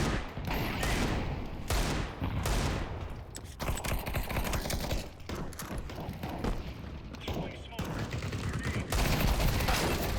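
Repeated bursts of loud automatic and single gunfire from a video game with an AK-type rifle, sharp close shots in fast clusters separated by brief pauses, with a voice talking now and then between them.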